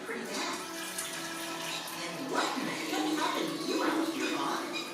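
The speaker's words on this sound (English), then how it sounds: "Then I'm going to add some water." Water pours into a container being prepared for homemade pickled radish, a continuous splashing fill that swells slightly toward the end.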